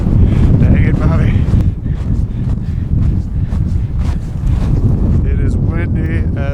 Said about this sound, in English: It is windy as hell up here.